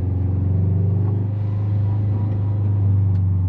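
A turbocharged 2004 Subaru Forester XT fitted with a GFB hybrid blow-off valve idles steadily nearby, its low, even boxer rumble continuous with a faint rhythmic pulse.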